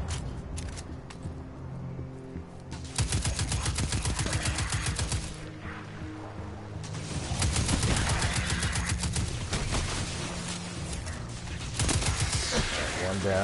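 A weapon fires in Destiny 2 in rapid, loud, close bursts that stretch across most of the stretch, with short gaps and shifts in intensity between volleys.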